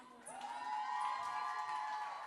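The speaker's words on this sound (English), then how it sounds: "Please give her a round of applause one more time." Audience at a youth brands awards launch cheering and whooping with applause, a brief crowd swell heard at moderate distance, somewhat faint.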